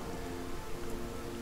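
Rain patters in the video game Divinity: Original Sin as a steady, faint hiss of falling drops that lasts without a break.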